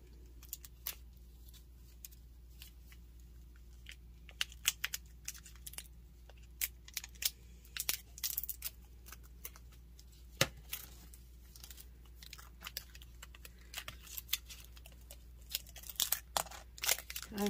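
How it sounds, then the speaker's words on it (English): Scissors cutting packaging at a desk, a quiet scattered series of crisp snips and rustles close by, irregular over a faint hum, with no talking. "Scissors."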